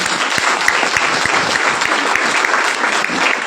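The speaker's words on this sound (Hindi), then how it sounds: "एक बार जोरदार तालियां महिलाओं की" A crowd at an RCM business meeting in Gwalior applauds the women present. The clapping is brisk and dense, with sharp individual claps standing out, and it continues without a break.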